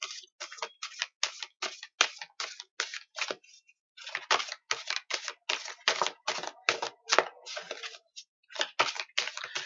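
Spirit animal oracle cards are shuffled by hand, giving a close run of quick crisp riffling clicks and flutters in bursts with a brief pause in the middle and no talking.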